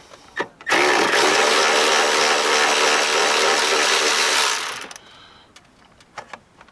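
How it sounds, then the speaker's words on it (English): Continuous loud whirring of a socket tool running for about four seconds on rotted battery tray bolts of a 2003 Chevy Suburban, close up, with light mechanical clicks just before and after. "Let's see if I can get a socket to grab on there."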